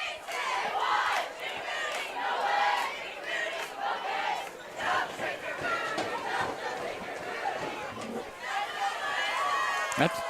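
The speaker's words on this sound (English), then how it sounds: "That took me by surprise, that last cheer." A varsity football crowd in the stands shouts and cheers throughout, a dense, noisy roar of many voices with bursts of yelling.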